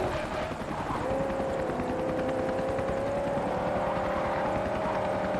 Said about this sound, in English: Trying to keep the helicopter in sight. The helicopter's quick though, isn't it?